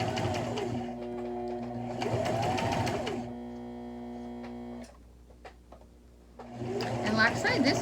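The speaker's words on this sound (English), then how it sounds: "here I am sewing just right along that edge" A sewing machine runs in short bursts stitching along the edge of a baby burp cloth, a close mechanical whir with brief quiet pauses, a voice talking between runs.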